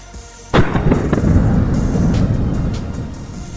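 A single loud, close blast from an Axor A3 12-gauge less-lethal shotgun firing a slug round outdoors, with a sharp onset followed by a long, rumbling reverberant tail that slowly fades.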